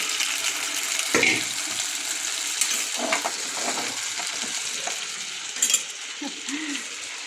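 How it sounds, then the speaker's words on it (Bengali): Fish frying in a pan of oil: a dense, constant hiss of sizzling with a few scrapes and clinks from stirring, close and steady, no voices. "মাছটা ভাজা হয়ে যাচ্ছে"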